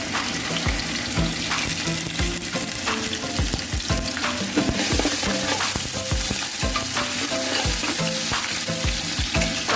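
Chopped and ground ginger with coconut frying together in a pan, a steady close sizzle with repeated scraping stirs throughout, no talking.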